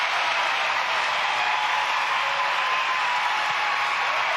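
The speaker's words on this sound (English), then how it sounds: "you can see the crowd here in Tallaght, they're all on their feet. Great, there's something to cheer about" A stadium crowd in Tallaght cheers and applauds after a penalty goal in a women's international football friendly, a dense, constant roar of many voices with no break.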